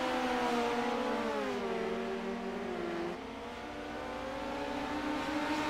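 Midget race cars roaring through the turns of a speedway, engines droning loud and steady with pitch sliding down then holding, a continuous close pack sound without talk.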